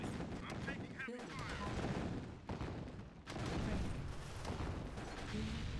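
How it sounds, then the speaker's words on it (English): Gunfire from a real-time strategy game, dense crackling bursts running almost without pause at steady loudness, mixed with short clipped unit voice responses and battle noise. "I'm taking heavy fire."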